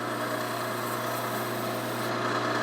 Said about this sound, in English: I got the lathe turned way down, so let's see this process.